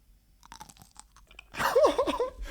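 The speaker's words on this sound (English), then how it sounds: "That was good crunch." Biting into a crisp pickle: a loud, close, wet crunch followed by a few seconds of chewing, after some quieter mouth and handling noises.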